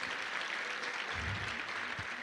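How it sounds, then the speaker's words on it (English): Audience at a youth event applauding the organizing team, a soft continuous patter of many hands heard from a distance with a few low thumps mid-way. "Can we just give a round of applause to EmpowerWorks as well,"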